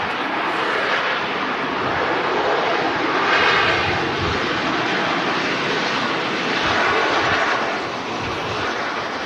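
Ryanair Boeing 737 jet landing at Manchester Airport, a steady broadband engine roar that swells and ebbs over several seconds, loud and continuous through an open window with no talking.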